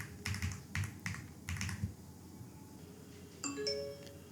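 Password keys tapped on a MacBook keyboard: quick bursts of light clicks over the first two seconds, then a pause and a bright chiming tone near the end, heard fairly close in a quiet room.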